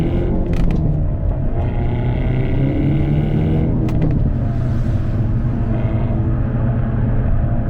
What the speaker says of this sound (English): Getting those pops on every shift it adds to the experience a lot.